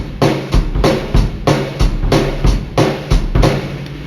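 A steady, punchy drum beat with repeated bass drum kicks and hi-hat or snare hits in a driving rhythm, loud and close, no voices.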